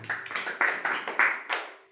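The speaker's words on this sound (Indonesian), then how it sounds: "Bagus, tepuk tangan, ya." A few students clap in a classroom after a recitation of Surah Al-Fil, giving about seven sharp, uneven bursts of claps that fade toward the end, quiet and close.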